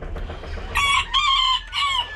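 A rooster crows loudly and close by, a rising strained call broken into a few bursts, with no talking.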